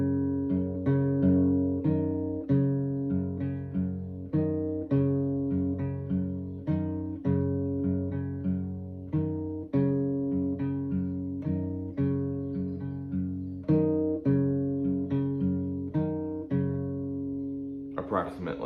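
An acoustic guitar plays the intro of a song, steady picked chords repeating in an even rhythm, close and clear, with a short sound at the very end.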